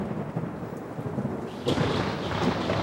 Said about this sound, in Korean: 내리치는 번개는 원자폭탄 하나보다 훨씬 더 파괴력이 강하다고 합니다.